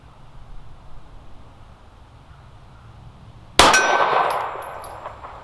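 A 9mm round from a Smith & Wesson M&P 2.0 Compact pistol striking a steel target, one sharp loud clang after quiet outdoor ambience, ringing out and fading over about two seconds.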